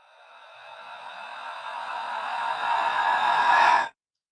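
A self-made, pitched-down riser sound effect swells steadily for about four seconds as a bright, noisy rushing tone, growing louder until it cuts off abruptly into silence.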